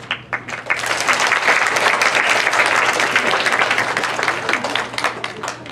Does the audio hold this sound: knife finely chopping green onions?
no